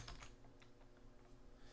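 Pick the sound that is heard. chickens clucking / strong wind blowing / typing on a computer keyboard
typing on a computer keyboard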